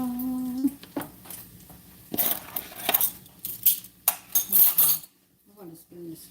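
A spoon scrapes and clinks against a pan while stirring flour down from the edges, with bacon being cooked nearby; scattered metallic clatters and brief knocks come close and fairly loud, with short pauses between bursts.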